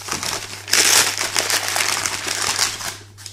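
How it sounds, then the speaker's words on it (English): Brown paper crumples and crinkles continuously close by during the unboxing of a book parcel, a busy rustling texture with louder bursts, and no speech over it. "lots of brown paper"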